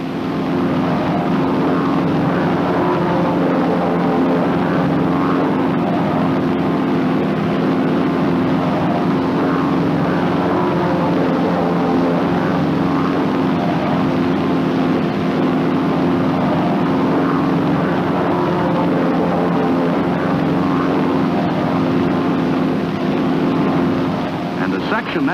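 Several North American T-6 Texan trainers fly together in formation, giving a loud, steady propeller-engine drone with a low harmonic hum that holds unbroken throughout.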